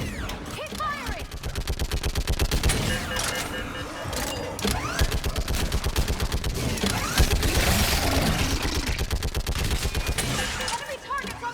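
Rapid, sustained automatic gunfire from a Mass Effect 3 firefight, dense bursts of shots overlapping with mechanical clanks and battle noise throughout, with voices shouting underneath.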